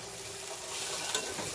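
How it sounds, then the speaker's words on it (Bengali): Food fries in a pan in a home kitchen, a quiet, continuous sizzle with faint crackles that swells slightly toward the end. No one speaks. "দেখেন ভালো মতন ভাজা হয়ে যাবে আর অল্প দেরি"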